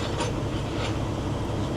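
A long freight train rumbles steadily as it slows to a stop, with low, continuous rolling noise and faint wheel clatter, no voices, sounding close and even throughout.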